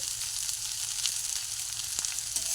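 Chowmein tossed with potato and beans sizzles and fries steadily in a pan, a continuous close hiss with a few faint stirring scrapes and no talking.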